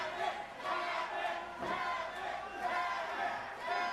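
A crowd at a wrestling match roars and shouts without a break, loud and dense, with yells rising and falling through the whole stretch.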